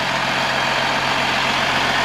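A 2008 Freightliner Business Class M2 106 truck idles with its Cummins ISB 6.7 turbo diesel, a steady, loud, close diesel drone with an even low throb and no voices.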